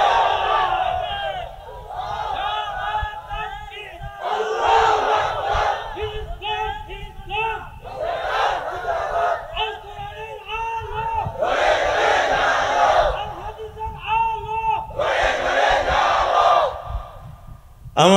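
A large crowd at an Islamic religious sermon chants the takbir in loud repeated unison bursts, with a lead voice calling between the roaring group responses.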